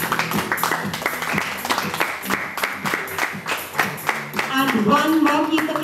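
Audience applause at a school award ceremony at Avalon Heights International School, a steady patter of claps from a crowd with talking over it, swelling louder toward the end.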